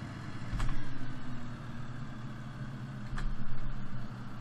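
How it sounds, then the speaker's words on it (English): A tractor in Farming Simulator 2013 with a more-realistic mod, in two-wheel drive with its cultivator lowered, strains and fails to pull. The engine gives a steady, low, laboring drone that swells louder twice. "So let's lower the cultivator and throw the tractor in gear. See what's happening? It can't pull."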